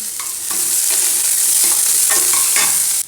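Mint tempered in hot oil for a tadka sizzles loudly and close, a constant hissing fry broken by a few soft stirring scrapes, with no voices.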